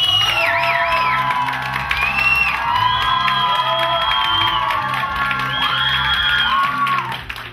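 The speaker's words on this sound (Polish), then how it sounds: "W sali Wehikuł Czasu słychać było gromkie brawa i okrzyki" In a hall, a crowd cheers loudly with whoops, shouts and applause, while rhythmic music plays underneath throughout.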